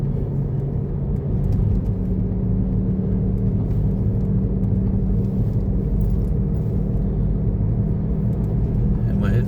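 Car cruising along a coastal road past West Beach in Burnie, Tasmania, a steady low interior engine and road rumble filling the cabin throughout, with faint rattles and someone talking over it.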